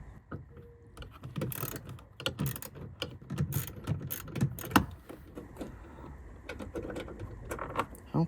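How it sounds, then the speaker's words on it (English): A 1/4-inch drive ratchet loosens a bolt tucked in the corner of a 2007-2014 Ford F-150 door, giving bursts of quick clicking pawl strokes with metallic rattles between them, close by and with no talk. "take my 1/4" drive ratchet and I'm going to get the bolt that's right in here"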